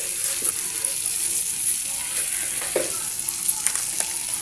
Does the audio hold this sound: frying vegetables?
yes